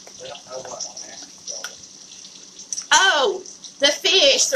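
Water pours from a tap over redfish fillets in a kitchen while breakfast is being made, splashing in bursts beneath ongoing conversation.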